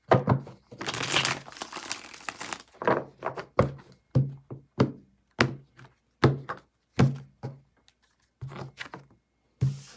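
Tarot cards are shuffled by hand: a long crinkly riffle up front, then a series of separate soft thuds and taps as the deck is cut and squared.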